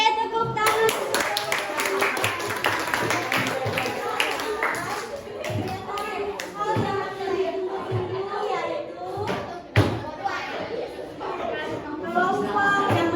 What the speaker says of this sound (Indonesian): Oke, tepuk tangan.